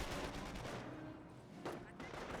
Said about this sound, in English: And we've got some artillery barrage there.